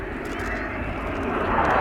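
A French Dassault Rafale fighter jet approaches with its undercarriage down, a broad, rumbling engine roar that swells steadily louder over a couple of seconds.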